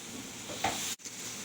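Butter and steak juices sizzle steadily in a pan, a close hiss with a brief swell as the butter is rolled around, then a short break before the sizzle resumes.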